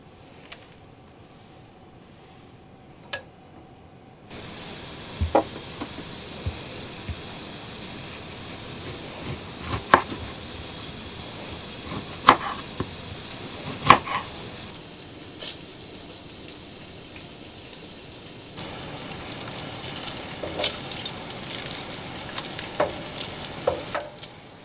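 Bread toasting in bacon fat in a vintage pan at a winter riverfront campsite, a steady soft sizzle with occasional sharp crackles and pops, close and fairly quiet throughout.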